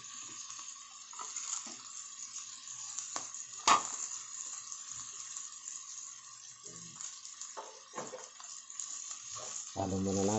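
Cabbage stir-frying in a pan, a soft sizzle underneath scattered scraping and clinking as it gets tossed and stirred, with a louder knock near the middle and a burst of bubbling hiss at the end.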